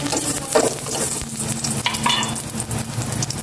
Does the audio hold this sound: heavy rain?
no